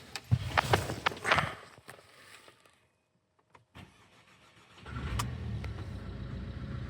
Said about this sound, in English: So now we're gonna try if we start the car